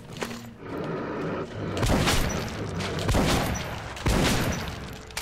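Gunfire in the Metro: Last Light video game comes as several sharp, heavy shots spaced about a second apart over a busy background, loud and close, with a voice speaking between the bursts.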